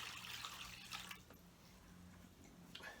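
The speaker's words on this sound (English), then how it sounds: "Get some water in the bottom there." Water poured into the bottom of a plastic seed-starting tray for tomato seeds, a soft splashing trickle at first that thins into quiet dribbles and drips.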